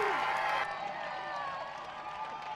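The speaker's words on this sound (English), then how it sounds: "The fans cheering here in Great Britain." A crowd of fans cheering and applauding at a women's ultimate frisbee match between Canada and Great Britain, a brief, moderately distant swell of cheers that fades slightly.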